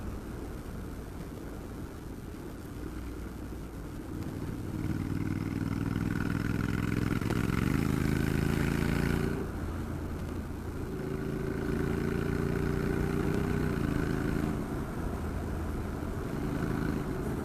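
A Honda NM4 motorcycle engine runs steadily close by, its low rumble rising in two sustained revving swells with a brief dip between them; no one speaks.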